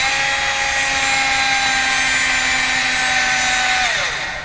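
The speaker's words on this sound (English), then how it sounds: "Come on, drill. Do your thing." A power drill, held on the trigger during a repair of a Viking RCS633 console, runs as a loud, steady high-pitched whine. Its pitch holds even, then starts to wind down at the end.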